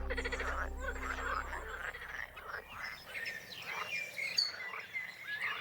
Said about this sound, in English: with the green frogs croaking in the background